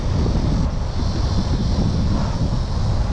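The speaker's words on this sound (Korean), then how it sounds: "바람 많이 부네요" Strong autumn wind blows outdoors, roaring steadily into the microphone as constant loud, broadband rumble and buffeting for the whole stretch, with no speech.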